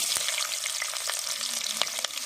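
Chopped onions hitting hot oil in a pan for mango mutton, giving a steady close sizzle and crackle with a few sharp pops and stirring clinks throughout.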